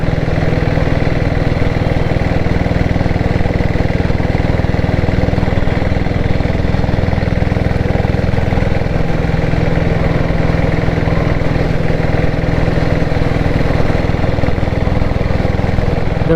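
A Diesel Bullet Red Deluxe 7.5HP motorcycle engine runs steadily at idle, a continuous close chugging drone without talk.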